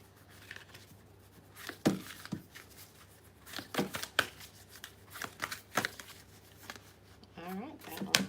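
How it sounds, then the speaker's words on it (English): Tarot cards are shuffled during a live general reading, with repeated crisp riffling bursts and card slaps that come in irregular clusters, close and moderately loud over a quiet room hum. "Clean shuffle, please."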